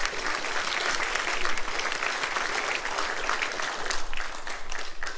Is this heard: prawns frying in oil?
no